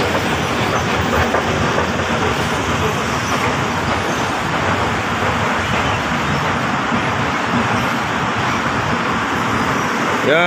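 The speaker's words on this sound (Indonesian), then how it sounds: "ini perhentian LRT ya, ini stasiun LRT EOE ya" An LRT train rumbles steadily at a station on the Bukit Jalil–Puchong line in Malaysia, a loud continuous roar of rolling wheels and motors mixed with surrounding traffic noise.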